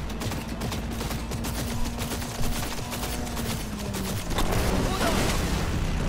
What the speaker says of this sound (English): I am shooting this fucker so much!